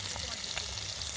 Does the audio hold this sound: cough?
no